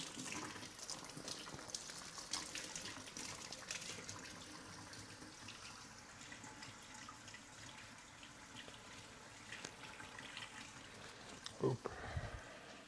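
Tap water runs into a kitchen sink as raw chicken is rinsed during meal prep for pesto chicken, a steady, faint close splashing and gushing that continues throughout, with a brief louder clatter near the end.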